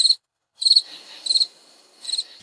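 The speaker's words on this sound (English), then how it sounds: "I wish I could make that cricket sound." Crickets chirp in four bursts of rapid high trills spaced about half a second apart, with a faint steady hum between them and no other sounds.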